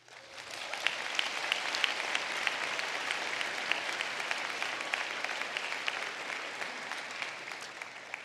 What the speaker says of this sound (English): We would like to acknowledge you with applause.